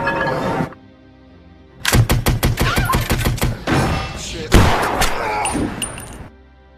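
Rapid volley of deck gun fire from a film scene, a quick series of sharp close bangs after a brief pause, followed by heavier impacts and a roaring burst.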